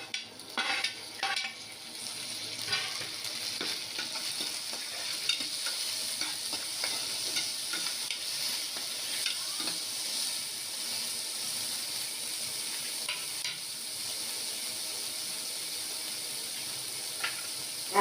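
Peanuts and tomato frying in a pan for a vermicelli upma, crackling and sizzling steadily up close, with a few stirring scrapes early on and no talking.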